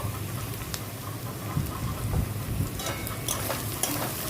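Prawns frying in a pan with ground turmeric, cumin and chili powder for a Bengali prawn curry, a steady close sizzle with scattered spatula scrapes and stirring clinks, no talk.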